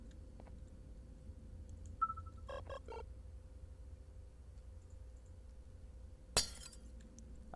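Glass shatters in the video game Garten of BanBan: faint clinks and a short tinkling break come first, then a sharper crash of glass a few seconds later over a quiet background hum.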